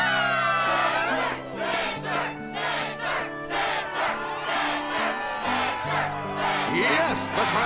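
A large crowd roars and chants at a Struggle tournament match in the video game Kingdom Hearts II Final Mix, loud rhythmic cheering in repeated bursts of many voices.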